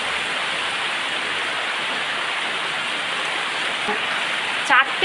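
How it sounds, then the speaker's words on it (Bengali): Heavy rain in Bangladesh pours down as a loud, constant hiss of rain striking surfaces, steady throughout. A brief faint chirp comes near the end. "প্রচণ্ড বৃষ্টি হচ্ছে"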